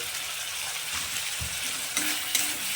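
Two small chopped tomatoes dropped into a pan of frying onion, ginger and garlic for an egg and spinach dish, a steady close sizzle with a few soft thumps and stirring scrapes.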